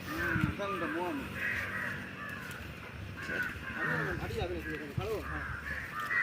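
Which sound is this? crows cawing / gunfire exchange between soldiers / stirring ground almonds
crows cawing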